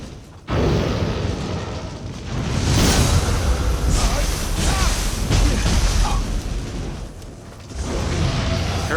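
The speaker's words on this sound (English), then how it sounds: "So I gotta watch out for that explosion that he does." Explosion attack by an enemy in the video game Nioh 3, heavy booming bursts and whooshes rolling through several seconds of loud combat sound, with no talk.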